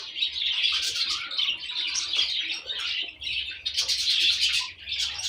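Budgerigars in a breeding cage keep up a dense, continuous chatter of bright chirps and warbles, close and lively, with brief dips before the twittering swells again.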